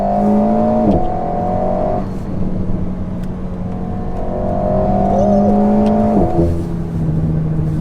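Alpine A110 with a 1.8-litre turbocharged four-cylinder engine, 250 hp and an aluminium chassis, droning loud and steady from inside as revs climb in long pulls, with two brief dips between gear changes.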